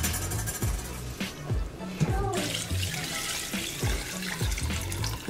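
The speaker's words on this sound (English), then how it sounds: "So we are going to throw the water back into this pot." Water from cooked rice is poured back into a pot of Mexican meatball soup, a splashing, gurgling pour with clanks of pot and utensils, fairly close and with no talking.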